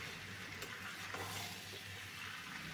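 Steady, close sizzle of chopped tomatoes frying with chicken in a pan, with soft scraping strokes of stirring running throughout, no voices.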